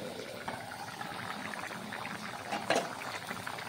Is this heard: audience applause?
no